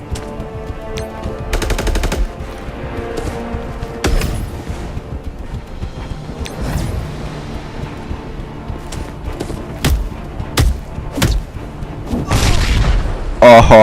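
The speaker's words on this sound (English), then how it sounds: "Uppercut and then explosion" Gambit's area attack in the Marvel Strike Force video game lands as a rapid series of sharp blasts and booming explosions with quick punchy hits in between. A voice talks over the busy game effects.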